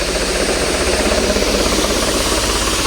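Tractor engine, a 3630 special edition fresh from service with new oil, idles steadily and loud with an even low rumble and no breaks across the whole stretch.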